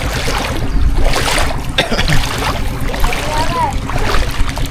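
Strong sea waves wash and slap steadily around a small boat on rough water, a continuous loud surge with occasional splashes, and voices talk over it.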